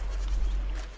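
Swimming goats in a video game give a short, wavering bleat that sounds close and fairly loud over a low steady rumble. The call lasts about a second.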